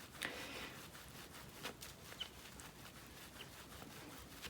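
Wet felted wool for a phone case is rubbed by hand along its edge in soft, repeated swishing strokes, quiet and close, with no voice over it.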